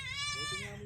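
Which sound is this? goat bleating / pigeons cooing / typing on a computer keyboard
goat bleating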